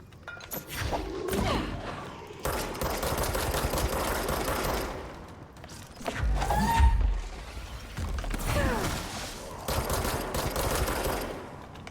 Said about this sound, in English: who's shooting him?